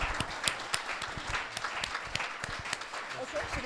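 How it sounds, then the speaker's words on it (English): A crowd applauds young chef candidates at an award ceremony, steady clapping filling the space for a few seconds under a speaking voice. "Let's applaud them now."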